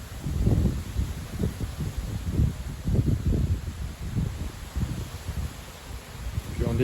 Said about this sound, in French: Et ça continue de souffler très fort sur les côtes.